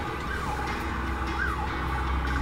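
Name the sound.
ambulance siren passing on the highway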